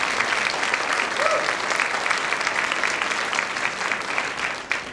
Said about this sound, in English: So let's give these ladies a big round of applause